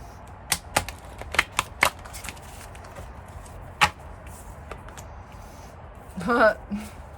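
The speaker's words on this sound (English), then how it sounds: "These cards are massive, so they're a little bit hard to shuffle" Large tarot cards are shuffled by hand, giving sharp, irregular slaps and clicks, followed by a brief riffling burst with a faint voice.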